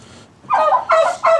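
A goose kept as expensive poultry in Edwardian Britain calls out in three loud, harsh, close honking bursts, each lasting a fraction of a second, with no talk.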